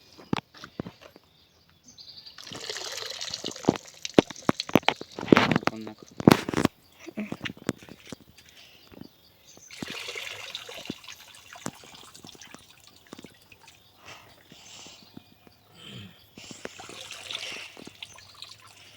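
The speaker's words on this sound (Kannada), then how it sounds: "ತುಂಬ ನೀಟಾಗಿ ತೊಳ್ಕೊಬೇಕಿದೆ ನನಗೆ ಮೂರು ಮೂರು ಸರಿ ನಾಲ್ಕು ನಾಲ್ಕು ಸರಿ ತೊಳ್ತೀವಿ ನೀಟಾಗಿ" Soil-covered wild mushrooms being washed repeatedly in water, with splashing, dripping and trickling in bursts alongside handling clatter, while a person talks throughout.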